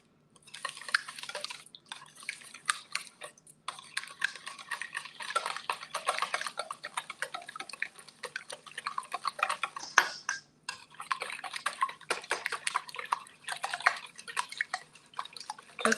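Southern pecan cake batter is stirred and broken up in a bowl, giving wet sloshing and scraping with small clinks, steady and close with brief pauses.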